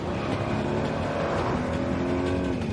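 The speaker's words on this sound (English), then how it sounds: "Good thing this Nissan Rogue is a standard turbocharged engine." A 2022 Nissan Rogue with a turbocharged engine hums and revs steadily under a continuous loud engine drone from start to finish, no talking.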